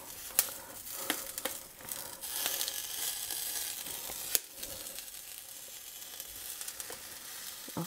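Onion and nopalitos char in a hot pan with a steady broadband sizzle, broken by sharp pops and crackles, including one loud snap midway; no voices.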